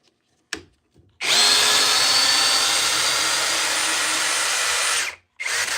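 Power drill driving timber lock screws into wood: a short click, then one sustained, loud motor whir of about four seconds that cuts off sharply, followed by a brief burst.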